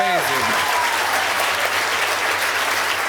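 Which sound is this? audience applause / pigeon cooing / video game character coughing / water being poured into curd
audience applause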